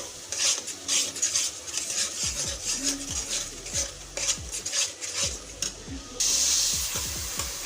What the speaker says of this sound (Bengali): তো এখন সুন্দর মতো দেখে কষিয়ে নিচ্ছি।